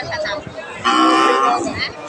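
At the Aftabganj cattle market in Dinajpur, where cows are sold for meat, a cow gives one loud, drawn-out moo close by amid a murmur of background voices.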